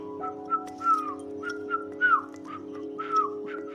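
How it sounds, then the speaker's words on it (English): A person whistles a series of short, bright, separate notes in an uneven melodic rhythm, close and clear over a faint steady hum, with no talking. "whistle. Whistle."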